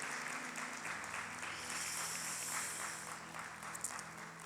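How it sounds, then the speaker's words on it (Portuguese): Congregation applauding during an Easter church service, a steady wash of clapping that holds for several seconds over faint organ-like sustained tones underneath, fairly quiet and diffuse in a large room. "Você pode aplaudir ao Senhor Jesus?"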